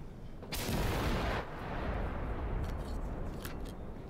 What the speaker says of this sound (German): Auch hier Minenexplosion.